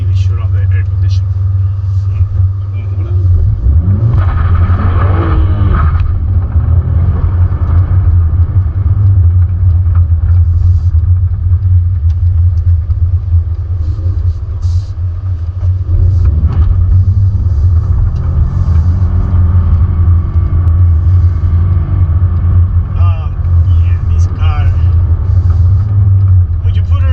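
A 2021 BMW M4 on the move, its engine giving a loud low droning rumble inside the cabin that swells under acceleration, with someone talking over it throughout.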